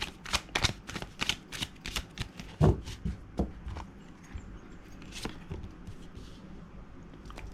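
Tarot cards are shuffled and handled close by, a run of quick crisp riffles and slaps in a dense burst at first, then slower scattered flicks and taps, with no talking.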